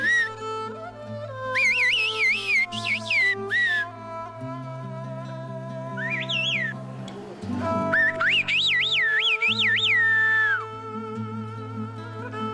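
Bird whistling in the mountains above Kuşköy, Turkey, in a village known for whistled speech, with clear rising and falling warbled phrases in bursts over a steady musical backdrop.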